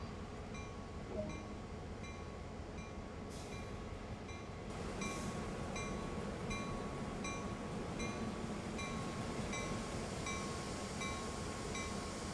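A train runs in Train Sim World 2020 on the Peninsula Route, a steady, fairly quiet rumble of rail travel with a faint tonal whine and occasional brief squeals, with no talk over it.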